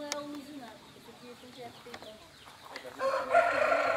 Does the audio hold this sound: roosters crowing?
yes